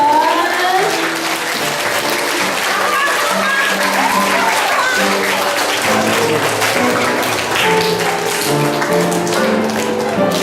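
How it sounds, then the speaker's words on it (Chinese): A church congregation at a Presbyterian Father's Day celebration stands and applauds, with loud, sustained clapping from a crowd and voices mixed in throughout. "请全体会众起立鼓掌"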